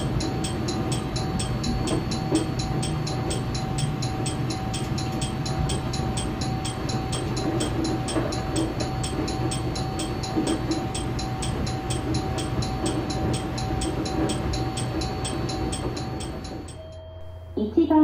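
JR Hokkaido train running along snow-buried tracks, a steady continuous rumble and rolling rail noise from inside the car, easing off at the end.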